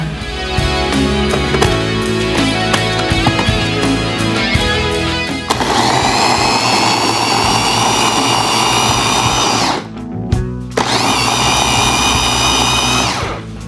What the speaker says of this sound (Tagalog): I-grind ko lang siya para siyang sausawa ng aming kabsa.